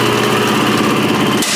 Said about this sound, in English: all right, air compressor